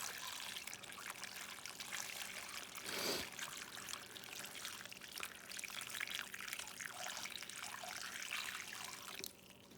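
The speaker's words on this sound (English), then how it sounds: "we're going to add water just so that it covers the vegetables" Water poured over chopped vegetables in a pot for bean soup, a continuous close rushing pour that swells briefly near the middle and then trails off toward the end.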